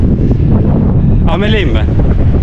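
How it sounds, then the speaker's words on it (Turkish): Strong wind gusts roar across a snowy winter camp at minus eight degrees, a loud steady rush close to the microphone, with a voice speaking briefly over it. "Şimdi rüzgar çok."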